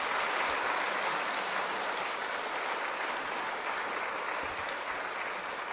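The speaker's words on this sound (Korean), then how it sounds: "다시 한번 큰 박수 부탁드릴게요" A church audience at a book concert in Cheongdam-dong applauds after a musical performance, a dense, even wash of clapping that holds steady for several seconds with no voices standing out.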